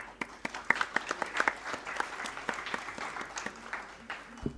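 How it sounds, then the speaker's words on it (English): Applause from a small audience at a company stock listing ceremony, distinct individual claps in an irregular quick rhythm, fairly close and modest in volume. "I'd like to give a big round of applause to everyone that made that happen."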